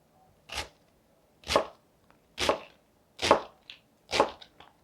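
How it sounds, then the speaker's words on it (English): A knife cuts down through an onion on a board in five crisp, evenly spaced strokes about a second apart, close and clear against near silence. "And I'll just start making my slices in the onion here."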